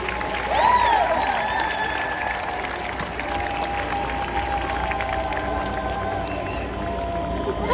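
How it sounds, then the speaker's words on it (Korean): Sustained applause from a large crowd at an outdoor church worship gathering in Seoul City Hall Plaza, steady and full throughout, with a brief whistle-like tone near the start. "두 분을 박수로 모시겠습니다."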